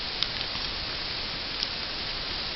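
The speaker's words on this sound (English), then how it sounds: "a little of this rain going out here" Steady rain falls outdoors as a dense, even hiss with a few faint droplet ticks, fairly loud and continuous with no talking.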